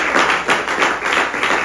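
A church congregation claps hands together in a steady rhythmic beat, loud and close, with no voices over it.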